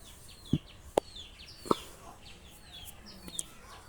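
Chickens in a village let out a few short, separate clucks at moderate distance, spaced irregularly over a quiet background.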